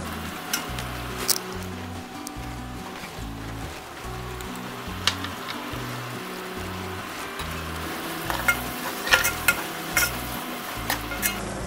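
Ghee sizzles steadily in a pan while vegetables for a Hyderabadi palak bhaji are fried and stirred, a continuous crackling hiss broken by occasional sharp scraping strokes of the spoon.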